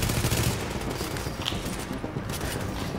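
Rapid bursts of gunfire in Tom Clancy's The Division on PS4, including a shotgun-wielding enemy, a dense fusillade of shots heard at moderate level, continuous and somewhat distant.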